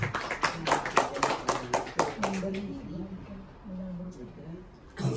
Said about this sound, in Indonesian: Tepuk tangan buat Tuhan kita semua.